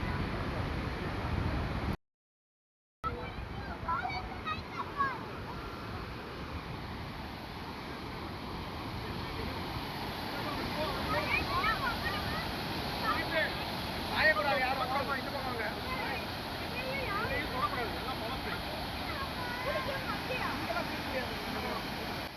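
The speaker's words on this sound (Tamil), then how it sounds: "அந்த தண்ணி விழுற சத்தமும்" Water pours steadily at Kutty Niagara Falls in Tamil Nadu, a continuous broadband rush with a brief dropout early on. Faint voices and some movement sit under the steady roar.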